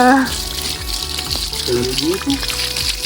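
Shower water sprays steadily over a pony on a hot day, a continuous close hiss and splash, with people talking over it.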